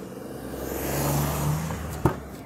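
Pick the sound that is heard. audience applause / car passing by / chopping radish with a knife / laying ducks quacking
car passing by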